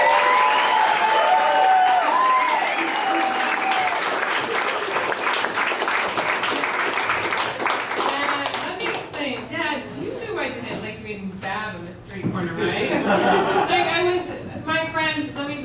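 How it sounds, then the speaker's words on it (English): A live audience at a stage show breaks into warm, steady applause with scattered cheers and chatter, and a voice starts speaking over it as the clapping fades. "Let's have a big hand"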